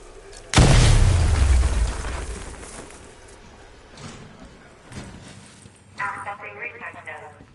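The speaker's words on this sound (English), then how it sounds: "Get close and apply the explosive directly to destroy that wall." An explosive charge blows through a wall in Batman Arkham Knight: a single close, heavy boom hits early and decays into a long low rumble, followed by quieter thuds and a voice talking.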